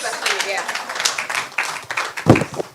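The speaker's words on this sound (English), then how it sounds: "Please give them a round of applause." Summit audience applause: scattered, uneven hand clapping nearby, mixed with talking voices, for a couple of seconds.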